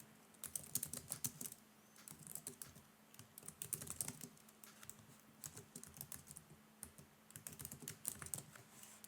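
Keys clatter on a computer keyboard in quick bursts of typing with short pauses between runs, close and fairly quiet, no voices.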